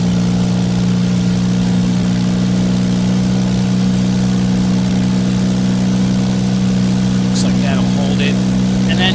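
A light aircraft engine drones at a steady cruise in a flight simulator game, a loud, constant low hum with no change in pitch, while someone talks over it.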